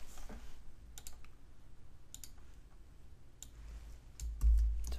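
Keystrokes on a computer keyboard while editing a Linux config file in a terminal, scattered clicks in short bursts, quiet and close, ending with a heavier keypress thump.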